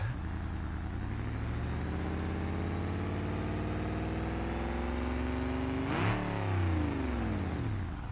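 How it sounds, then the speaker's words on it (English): A faulty car engine in BeamNG.drive runs with a loud, continuous drone whose pitch rises steadily, then drops sharply partway through before climbing again, with no voices over it. "an engine shouldn't be doing that"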